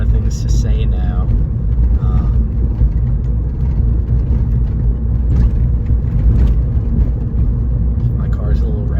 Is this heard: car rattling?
yes